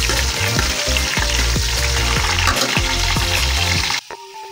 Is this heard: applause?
no